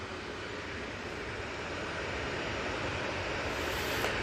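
TUI airliner approaching Manchester Airport, a faint, steady distant jet engine rumble that swells slightly toward the end, with no talk.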